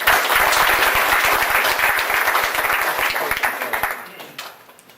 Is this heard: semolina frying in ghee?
no